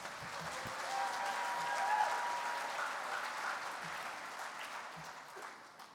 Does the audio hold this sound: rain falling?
no